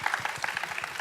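Audience applause at a corporate presentation event, a lively patter of clapping hands at moderate volume over a short burst, with faint crowd murmur beneath.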